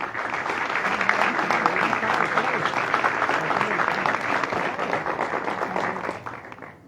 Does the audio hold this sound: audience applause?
yes